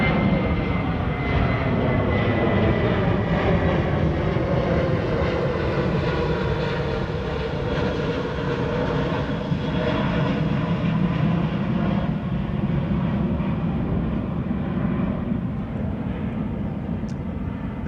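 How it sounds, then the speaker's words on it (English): A Boeing 787 Dreamliner jet departing Amsterdam Schiphol Airport for Bangalore gives a loud, sustained engine roar with a deep rumble, holding steady close by for the whole stretch before easing slightly toward the end, with no voices. "The Dreamliner to Bangalore in India."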